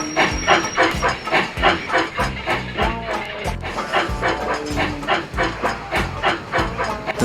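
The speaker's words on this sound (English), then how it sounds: "Groaning horribly on the curves, James went slowly down to the harbour." A steam locomotive groans slowly around curves on its way down to a harbour, giving a steady rhythmic chuffing and hissing that fills the whole stretch, with tonal ringing layered on top.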